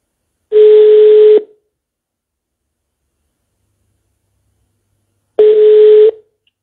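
A telephone calling back a number: two long, steady ringing tones on the line about five seconds apart, each lasting roughly a second, with silence in between.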